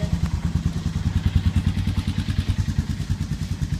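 A Honda TRX250EX ATV engine idles just after a cold start, a close, steady, loud chugging with rapid rhythmic pulses and some mechanical clatter, and no one talking.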